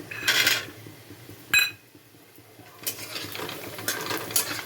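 Bori lentil dumplings fry in oil with dried chilli, giving a steady low sizzle broken by a few sharp stirring and pan-scraping bursts, close and alone.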